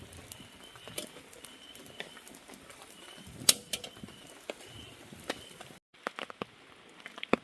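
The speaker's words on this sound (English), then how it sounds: "got a nice steady rain come back around for us." Steady rain patters on a CRUA hybrid hammock tent during a storm, a soft dense tapping with scattered louder drops, fairly quiet and close, with a brief lull near the end.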